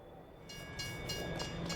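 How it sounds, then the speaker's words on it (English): In Farming Simulator 22, a train arrives on the Zielonka map, rolling in quietly in the background with soft rail rumble and rhythmic clatter that grows slightly louder. "Hey, the train is here."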